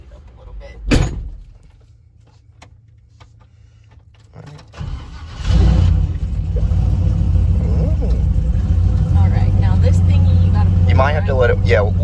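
A vehicle door thumps, then an engine starts and settles into a steady low rumbling idle that continues to the end.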